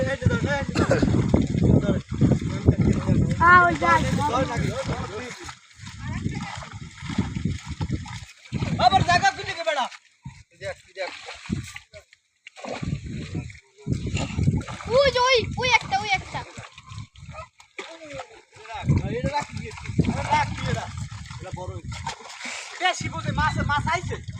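Hundreds of fish caught in a net thrash and splash in shallow water, bursts of loud splattering and sloshing coming and going, with excited voices talking over much of it.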